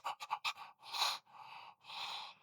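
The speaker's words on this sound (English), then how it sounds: "Start with fast panting, find the movement." Quick, short panting breaths for a singing breath exercise, first four fast clipped pants and then two longer breathy huffs, close and faint.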